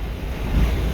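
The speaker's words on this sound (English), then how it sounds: "it's a really windy day. We have 15 mile an hour" Gusty wind of about 15 mph outdoors in Decatur, Texas, a continuous low rumbling roar buffeting the microphone, loud and close with no speech.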